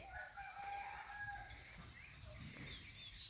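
A rooster on village farmland crows in drawn-out calls with some clucking, moderately close and alone, with no talk over it.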